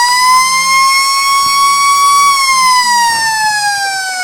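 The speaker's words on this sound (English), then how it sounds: "Saved by the siren, I think, the Lions on that occasion, Andrew." A loud, wavering siren sounds at a Riverina Australian rules football match between the Lions and the Swans. It rises and then sags in pitch and holds close and dominant for several seconds with no talk.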